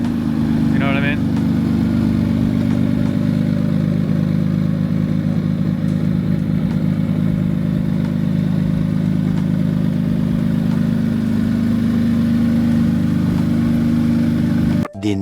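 A single-turbo Kia Stinger is driven, and its engine gives a steady, low rumble that stays loud for the whole stretch, with slight shifts in load and no clear pauses.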